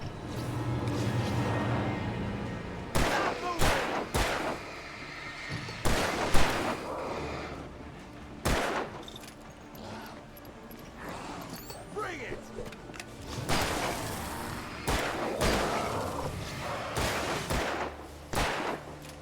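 Gunfire in the Alan Wake Remastered video game, repeated sharp shots and bursts scattered through the scene, mixed with in-game voices and people talking over the action.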